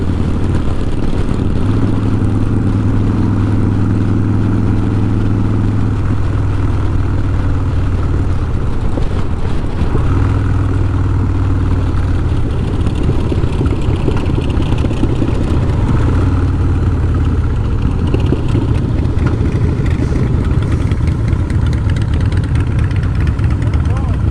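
An older Harley-Davidson Softail motorcycle engine idles with a steady low rumble throughout, close and loud, while people talk over it in the foreground.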